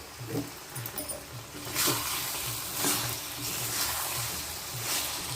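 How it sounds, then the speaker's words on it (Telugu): Green chillies are stirred into Andhra-style spicy chicken fry in a pan, with a steady sizzle under rhythmic scraping strokes of a spoon against the pan. "పచ్చిమిరపకాయలు వేసుకొని బాగా కలుపుకుందాం."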